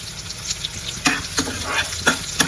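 Curry leaves fry in hot oil for tomato rice, a steady close sizzle with a few sharp crackles and pops, no talk.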